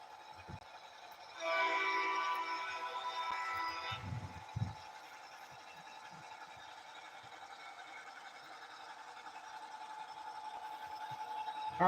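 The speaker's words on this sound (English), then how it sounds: "I definitely had to give this locomotive more run time" A CSX locomotive runs steadily, with a louder rumbling passage partway through followed by a few low thumps, then a continuous moderate drone of engine and wheels on the rails.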